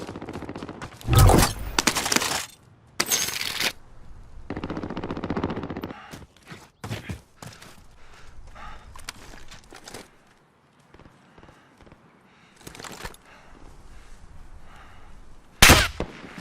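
Bursts of gunfire in Call of Duty: Warzone, loud rapid volleys and single shots punctuating a tense firefight, with gaps of quieter movement and shouted squad callouts between the bursts.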